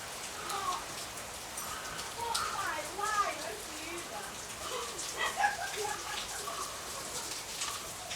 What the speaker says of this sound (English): They've all come out in the fucking rain